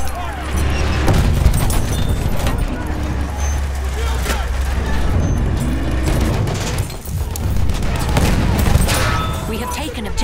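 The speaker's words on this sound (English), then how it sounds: "Enemy machine gun over there!" Machine gun fire in a Battlefield 1 multiplayer match: loud, sustained bursts and rattling volleys mixed with booms and battlefield noise, while voices call out over the shooting.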